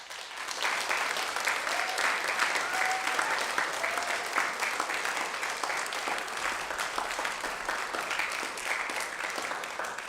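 Sustained applause from an audience at a spoken word poetry showcase, dense and even clapping that fills the room loudly throughout, with a few scattered voices under it.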